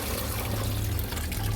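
Water is poured a little at a time over washed ragi grain spread on a cloth to rinse out sand, making a soft, continuous close trickle and splash without speech.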